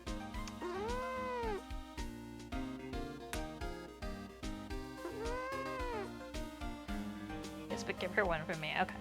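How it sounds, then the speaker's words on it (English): A cat named Shop Cat meows twice indoors during a livestream, each cry a clear rising-and-falling wail about four seconds apart over steady background music and game sounds. "coming in here and meowing at me while I'm streaming"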